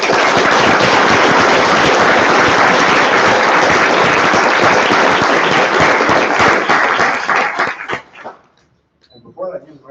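Conference audience at the fifth RacketCon applauding after a talk, with loud, dense clapping sustained for about eight seconds before fading out quickly into a quiet voice.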